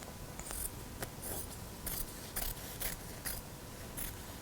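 Repeated crisp snips of scissors trimming excess fabric from a draped pattern-making sloper, about ten quick cuts in an uneven rhythm over a steady background hiss.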